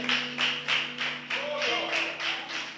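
A church congregation claps in a steady rhythmic beat, about three claps per second, over sustained musical tones and faint voices.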